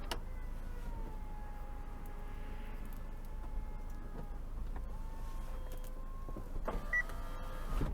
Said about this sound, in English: Full electric hood.